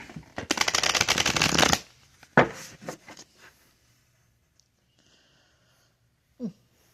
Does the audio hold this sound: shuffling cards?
yes